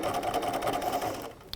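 A sewing machine stitching appliqué of shot cotton hearts onto a quilt block, running in a quick, even, close rhythm before slowing and stopping with a small click near the end.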